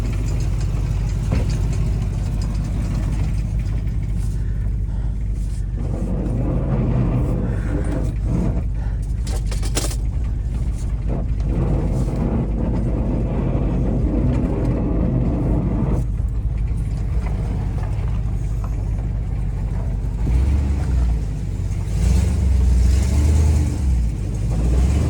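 A truck with a 6.0 LS V8 engine runs and revs up close and loud, its rumble rising and falling in bursts, with the heaviest, deepest revving near the end.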